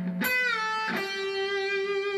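Electric guitar playing a pre-bent note released downward into a held tone, part of a guitar solo; a single sustained note rings on clearly after the release, solo and fairly close.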